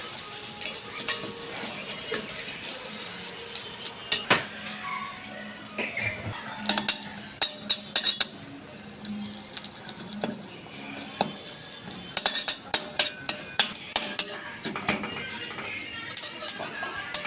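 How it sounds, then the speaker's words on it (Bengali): A metal utensil scrapes and clinks against a dry wok in irregular bursts as neem leaves are dry-roasted, stirred and tossed until crisp, close up with no talking. "খালি কড়াইয়ের মধ্যে নিম পাতাটাকে নেড়ে চেড়ে ভেজে নেব"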